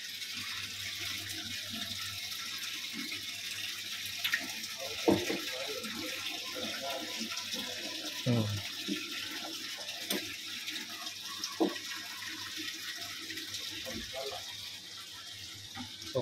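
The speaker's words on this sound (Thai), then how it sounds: "พี่ยังลดน้ำได้อีกหน่อยนึง" Water drained out of a large fish tank holding a big red fish, a steady close trickle and flow with occasional gurgles and clicks from the draining equipment, continuous throughout.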